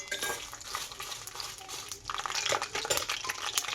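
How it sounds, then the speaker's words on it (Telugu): Dried red chillies fry in oil on low heat for gongura chutney, a soft crackling sizzle broken by scraping stir strokes of a utensil in the pan, growing busier toward the end; no speech. "సిమ్లో పెట్టి వీటిని వేపాలి, లేకుంటే నల్లగా మాడిపోతే బాగోదు."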